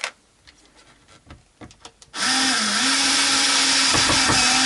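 Bridge screws on a Tenson Telecaster-style guitar are worked loose, first with a few light taps and handling knocks, then a loud, steady electric screwdriver whir that runs continuously to the end.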